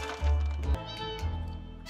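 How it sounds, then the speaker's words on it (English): A cat meows in the video game 60 Seconds, two loud drawn-out meows close up, the first short and the second longer, with game sounds faintly behind. "let the cat come inside."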